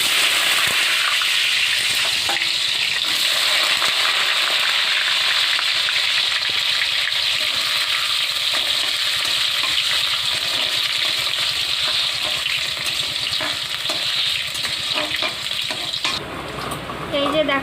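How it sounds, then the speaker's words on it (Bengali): Potatoes fry with a bay leaf in a hot pan, giving a steady, loud sizzle that runs unbroken for the whole stretch and eases slightly near the end. "এবার আমি আলু দেবো, আলুটা ভেজে নেব।"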